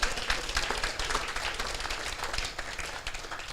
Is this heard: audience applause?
yes